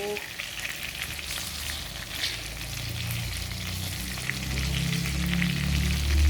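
Chicken longganisa sausages fry steadily in a pan for breakfast, a continuous close sizzle and crackle that grows louder toward the end, with no talking.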